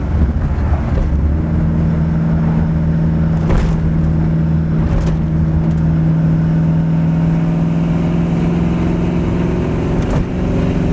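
A 1982 Ford Fairmont cruises down the road with a loud, steady engine drone and road rumble, its tone holding even and close throughout, with no talking.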